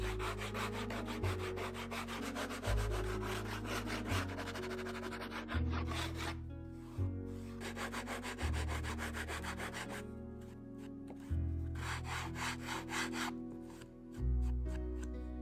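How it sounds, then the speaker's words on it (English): Edges of foam terrain pieces are sanded flat, a steady close rubbing rasp in rhythmic back-and-forth strokes, loud and continuous with brief pauses between passes. "I then quickly sanded the edges flat and nice."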